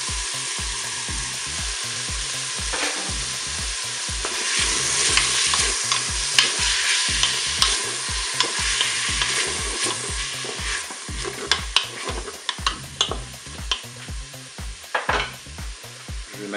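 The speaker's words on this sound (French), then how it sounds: "Maintenant ajouter mes oignons." Onions sizzle and fry in a Cookeo multicooker pot for a goulash, with a steady broadband hiss, irregular scraping stirs and clicks growing busier midway, under a regular low pulsing hum from the appliance; no one speaks.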